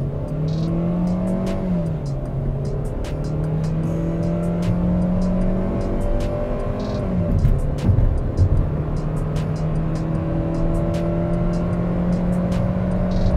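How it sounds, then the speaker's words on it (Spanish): A Kia K3 Cross with a 1.6-litre engine accelerating at full throttle in drive, the engine note climbing steadily in pitch, dropping at a gear change and rising again, heard from inside the car over road noise, with no talk. "Lo primero es mostrarles la aceleración. Lo pongo en drive, voy a fondo"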